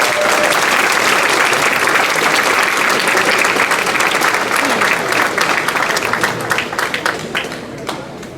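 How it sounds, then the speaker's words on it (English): Loud, sustained applause from a large audience at an awards celebration, dense clapping filling the room and tapering slightly near the end, with some faint voices mixed in. "Give them one more round of applause."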